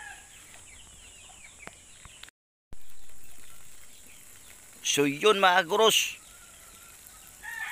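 Native chicken clucking in a short burst of harmonic calls, near and fairly loud, set against quiet outdoor background, with a person speaking briefly earlier.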